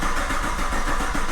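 Camaro engine with fuel unhooked, cranking over on the starter in a steady, loud rhythmic churn with no catch, heard close for about a second.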